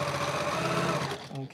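A sewing machine runs in a fast, continuous whir while chain piecing quilt blocks, then slows and stops near the end, close and fairly loud.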